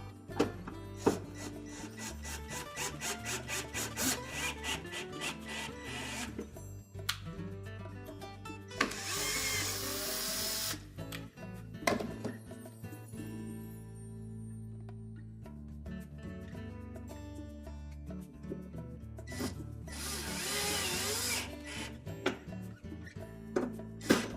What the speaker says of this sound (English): place them in the same position on the new element, and reinstall the mounting screw